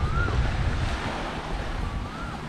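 Surf washing onto a beach on Phi Phi Island, Thailand, a steady broadband rush with low rumble and wind buffeting the microphone throughout, fairly close and continuous.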